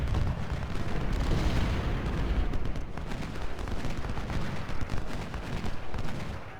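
Dense, continuous volleys of musket and artillery fire roar from a Civil War strategy battle in Ultimate General Civil War, at the Hardin Pike battlefield, with heavy booms and rippling shots sustained throughout at high volume.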